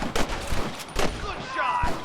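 Gunfire in Red Dead Redemption on PS3 during a bridge fight, several sharp reports scattered over two seconds amid busy battle noise, with shouted voices.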